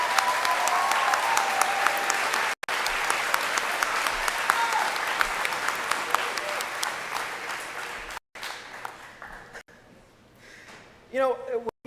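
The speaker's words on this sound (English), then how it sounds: "let's give it a round of applause" A crowd at a college graduation ceremony applauds in a long, steady wash of clapping that fades away near the end, and a voice speaks through a sound system as it dies down.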